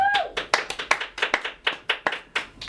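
Scattered, distinct claps from a small comedy-night audience in Edinburgh, about a dozen separate sharp hand claps spaced irregularly, with faint voices underneath.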